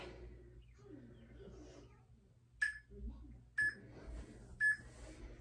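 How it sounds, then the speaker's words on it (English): A workout interval timer sounds three sharp, evenly spaced beeps about a second apart during a total body conditioning class, clear over a quiet room with faint background murmur. "We're gonna start the timer here."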